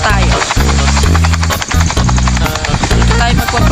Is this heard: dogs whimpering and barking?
no